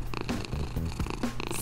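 A female cat purrs steadily while being petted, a close, rhythmic rumbling that pulses with each breath for the whole short stretch, with no talk over it.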